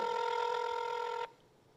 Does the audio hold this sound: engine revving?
no